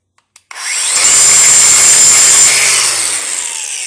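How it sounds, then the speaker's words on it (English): A loud, close grinder runs steadily for several seconds after a few short taps, grinding the linkage arm of a Ford Econoline wiper motor flat, then winds down slightly near the end. "We just grinded that flat."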